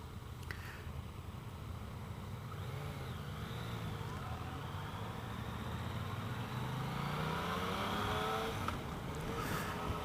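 A 2015 Yamaha FJ-09 triple-cylinder motorcycle engine drones steadily while riding on a cold morning, rising slightly in pitch near the end with wind noise over it.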